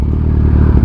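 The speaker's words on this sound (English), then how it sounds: "But you see how this bike idles?" Kawasaki Ninja H2 motorcycle idling, a steady low engine rumble with a faint rhythmic pulse and light mechanical clatter, close and continuous.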